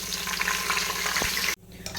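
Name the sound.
green chillies and spices frying in oil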